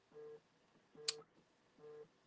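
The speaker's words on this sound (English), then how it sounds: "what you hear is my other phone" Another phone rings partway through a live show, giving three repeated electronic ring bursts spaced evenly over about two seconds, fairly close and clear, with a brief sharp click between the first and second bursts.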